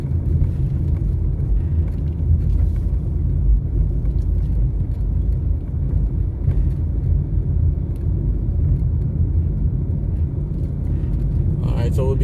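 A car drives through neighbourhood roads in Kingston near Ken Hill Drive and Pembroke Hall, giving a steady low engine and road rumble that stays loud and even throughout.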